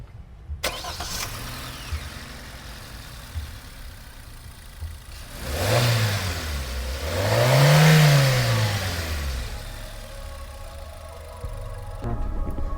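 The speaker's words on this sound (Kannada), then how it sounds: "ನಿಮ್ಗೆ ಇಂಜಿನ್ ಸೌಂಡ್ ತೋರಿಸ್ತೇವಂತ" A Maruti Suzuki WagonR ZXI+ petrol car starts with a short crank and settles into a steady idle. It is revved twice in rising and falling swells before dropping back to idle, heard up close.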